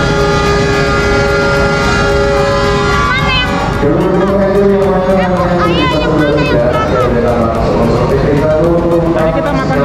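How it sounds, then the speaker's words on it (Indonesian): A train rumbles past with a sustained horn-like tone near the start, while a crowd of people chatters and calls out over the noise. "Ada kereta"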